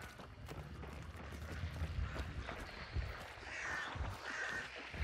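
Crows caw in the video game Hunt: Showdown, a few harsh, rasping calls at moderate distance over a low rumbling game ambience.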